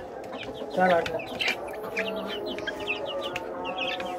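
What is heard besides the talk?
rooster clucking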